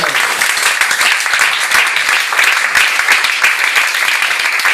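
A church congregation applauds in dense, sustained clapping that fills the room, loud and close, with a voice faintly mixed in.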